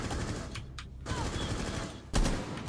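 Bursts of rapid gunfire in Rainbow Six Siege, with a couple of quick shots and then a louder close report, all over constant game background noise.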